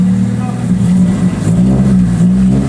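A Honda Civic engine revs steadily at close range while the car reverses, a loud, sustained low drone that rises and falls slightly, with people shouting over it.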